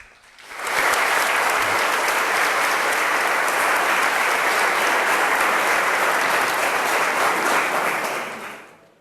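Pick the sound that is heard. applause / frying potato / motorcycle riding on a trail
applause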